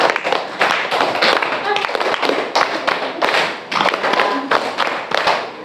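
A group claps in a counted rhythmic pattern during a classroom session, with bursts of sharp, slightly uneven claps repeating in quick sets, loud and close.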